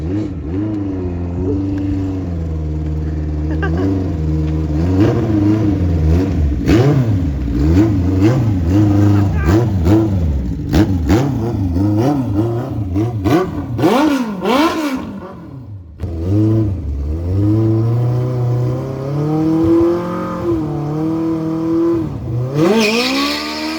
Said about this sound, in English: Here we go, a little legend car going down the drag strip.